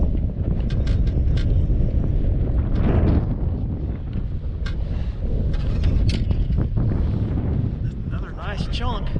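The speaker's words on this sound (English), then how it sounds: "especially when it's windy like this" Strong wind buffets the microphone in a steady roar while bass fishing from a point on Lake Lanier in winter, with rustling gusts and brief clatters throughout, loud and close.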